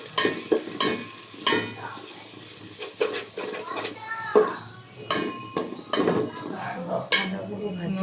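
Ginger frying in a pan and being stirred, with repeated scraping and clinking of a utensil against the pan over a soft sizzle, close by and fairly busy throughout.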